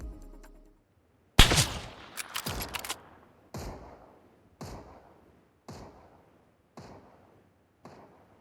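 Mosin or Kar98k bolt-action rifle shots in PUBG heard at a distance: a sharp crack with rapid echoes, then about six single reports at roughly one-second intervals, each with a short decaying tail.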